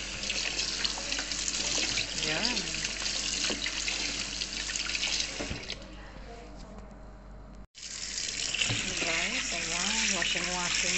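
Tap water runs steadily into a sink as baby kailan is washed, a continuous splashing stream with brief interruptions, while a person talks over it throughout.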